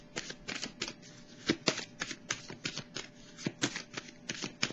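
Tarot cards are handled and laid down in a quick series of soft flicks and slaps, close and fairly quiet, tapping at an uneven pace.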